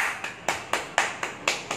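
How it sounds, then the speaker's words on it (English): A small abacus class claps in unison for a student, about seven evenly spaced sharp claps in a steady rhythm, moderately close and fairly soft. "Clap for Nathik."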